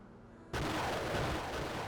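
A tank fires its main gun in a video game: one abrupt, loud blast bursts in after a quiet moment and swells into a sustained, roaring rumble that fills the rest of the moment.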